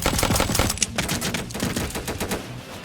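Pistol fire in the Roblox zombie game The Undead Coming, a quick burst of sharp shots that gives way to echoing, fading reports, loud and close.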